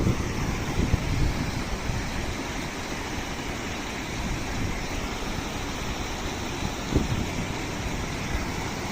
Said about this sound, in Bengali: নদীর পানির ঝর্ণা দেখুন